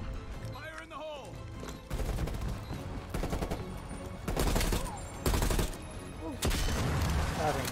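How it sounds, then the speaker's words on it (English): A C4 charge detonates amid heavy gunfire in the Cold War–era shooter Call of Duty: Black Ops Cold War, with loud repeated blasts and dense bursts of shots layered over game music and voices. "Just plant the C4 and blow this thing to shit."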